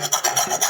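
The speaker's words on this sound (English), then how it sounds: "You turn the grater." Fresh ginger rasped against a grater for a teaspoon's worth while making lemonade, heard as a close, brisk scraping in quick repeated strokes with no talking.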